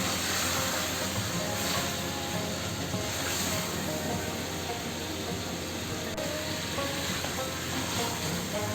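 Ginger garlic paste fries in a pan for chicken do pyaza, giving a steady, even hiss of sizzling that runs unbroken throughout with no one speaking.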